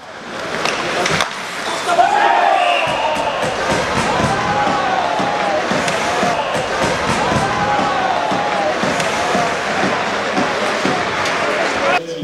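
Crowd in a thinning ice hockey arena during a JKH GKS Jastrzębie versus GKS Tychy match applauds the visiting team, a steady wash of clapping and crowd noise that runs throughout with some voices mixed in.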